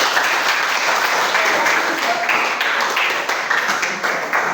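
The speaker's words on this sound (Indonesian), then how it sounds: "tepuk tangan untuk kita semua" A group in a classroom applauds, a dense, loud burst of clapping that runs steadily throughout and fades slightly toward the end.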